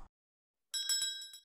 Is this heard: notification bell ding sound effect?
yes